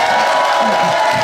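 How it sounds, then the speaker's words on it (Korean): A live comedy stage show audience applauds and cheers for a contestant, a loud, brief burst of clapping and whoops from a crowd with shouting voices mixed in. "춘삼이가 잘했다고 하시면 박수 한번 주시오."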